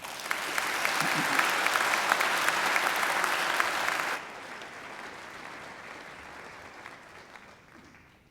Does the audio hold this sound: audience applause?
yes